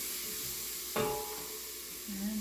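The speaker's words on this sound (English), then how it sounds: "And just give this a little stir around." Paprika being stirred into a sizzling pan of black bean and yam soup base, with a brief scrape of the spoon and a soft, steady frying hiss close by, then a low gentle bubbling.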